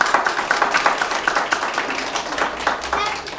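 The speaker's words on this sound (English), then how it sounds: "clap your hands to Chris" Young children at a preschool entrance ceremony clap their hands together in a dense, steady patter of applause lasting several seconds, with a murmur of voices underneath.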